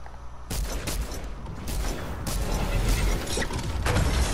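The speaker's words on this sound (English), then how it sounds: "he's using the shotgun, I think" Shotgun blasts in Fortnite Battle Royale, heavy booming reports amid a dense, continuous barrage of game combat noise, with several sharp bursts across a few seconds.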